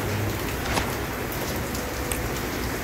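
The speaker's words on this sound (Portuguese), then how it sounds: "Duas horas que nós estamos rodando debaixo de chuva." Heavy, steady rain pours down during a rainy, cold trike ride on the road to Urubici, Santa Catarina, a dense continuous hiss of drops hitting surfaces with no voices.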